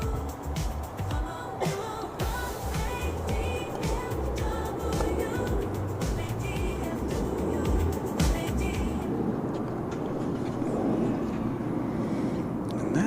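A Boeing 737-800 on the runway at DFW Airport, a broad steady engine roar heard from a distance, with wind rumble and faint background talk.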